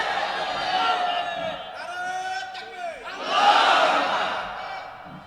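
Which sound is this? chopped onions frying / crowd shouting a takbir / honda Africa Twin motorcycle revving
crowd shouting a takbir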